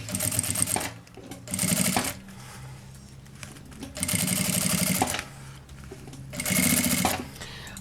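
Sewing machine stitching fabric slowly around the curve of a mask holder, running in bursts of rapid mechanical clatter separated by pauses with softer handling noise, close and fairly loud, no talking.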